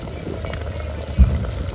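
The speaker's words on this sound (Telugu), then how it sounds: "ఇదిగోండి చక్కగా ఉడికిపోతుంది." A pot of mutton gongura curry bubbles steadily at a low boil, with a single soft knock partway through.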